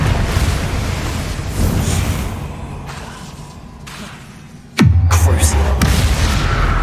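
A Confringo fire-spell blast in Hogwarts Legacy: a roaring magical rush, then a sudden loud explosive boom and a burst of crackling debris, with no talking.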